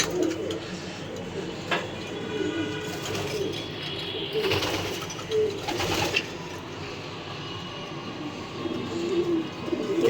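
Racing pigeons cooing in a loft housing about thirty birds, soft repeated coos and rustling heard at moderate distance over a low background hum.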